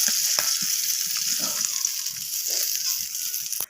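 Chopped onions sizzle and fry in hot oil left over from frying fish, a continuous bright crackle with faint stirring scrapes underneath, close and steady throughout.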